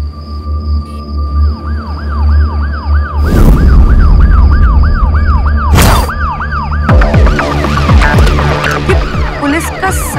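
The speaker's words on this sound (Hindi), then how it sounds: "पुलिस का सायरन।" A wailing police siren in a TV drama scene, its pitch sweeping up and down in steady cycles, loud and close, with bursts of broadband noise and other tones layered in toward the end.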